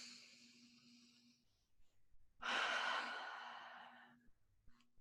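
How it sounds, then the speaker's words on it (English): A slow, deep breath drawn in during a guided relaxation for anxiety: a long, loud broadband inhale-exhale rushes up near the microphone, preceded and followed by quieter breathy air and a faint steady hum. "And now take a deep breath."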